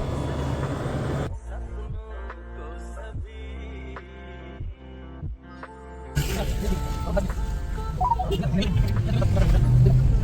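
An airport vehicle's engine runs at close range with a steady low rumble, a busy stretch of traffic and crowd noise swelling in partway through while people talk nearby.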